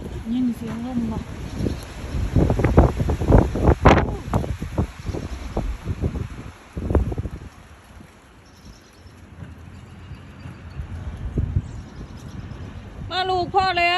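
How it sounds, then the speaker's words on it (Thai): Strong storm wind roars and gusts steadily with rustling and flapping, at times swelling louder, while people talk over it. "ยินเสียงลมบ่"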